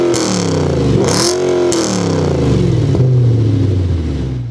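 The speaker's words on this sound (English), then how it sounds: "This car also has a custom MagnaFlow sports exhaust that sounds" An Audi B7 RS4 with a custom MagnaFlow sports exhaust revs loud and close, the engine note climbing in rising and falling sweeps with sharp throttle blips and a deep exhaust rumble throughout, no voices.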